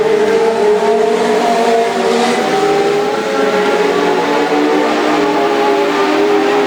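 Legend race cars roar past on a racing circuit, a loud sustained engine drone with layered, slowly shifting pitches as the pack runs together, no voices.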